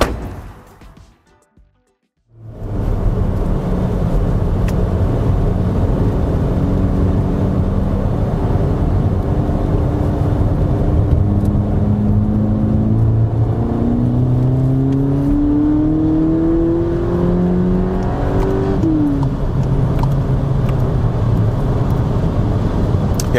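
A VW Polo GTI pulls away after a brief near-silence, its engine note rising through the gears with clear upshifts and a steady, loud rumble heard from inside the cabin, sustained acceleration building toward the end.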